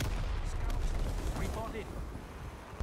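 A grenade blast in the Vietnam War shooter Rising Storm 2, a dense rumbling burst amid ongoing gunfire and battle noise that fills the whole short stretch.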